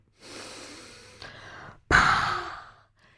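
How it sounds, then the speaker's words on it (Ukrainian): Slow, audible breaths during a postpartum pelvic floor exercise: a long soft exhale, a brief pause, then a stronger, louder breath out, close and clear with no talking. "Вдихаємо через ніс. Видихаємо через рот."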